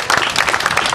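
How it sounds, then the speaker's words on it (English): A crowd applauds at a football coaching clinic's opening ceremony, a brief burst of dense, steady clapping from many hands filling the room. "that's the last time that they'll have any applause from this group here"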